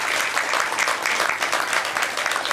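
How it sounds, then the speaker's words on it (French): Audience applause at an award ceremony honoring staff members, a dense, steady burst of many hands clapping filling the whole stretch with no talk over it. "je vous demande de les applaudir très très fort"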